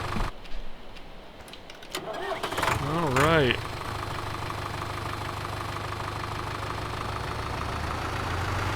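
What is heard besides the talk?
diesel tractor engine starting and idling, Farming Simulator 2013 video game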